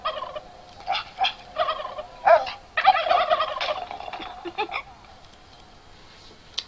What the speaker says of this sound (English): Noisy turkeys.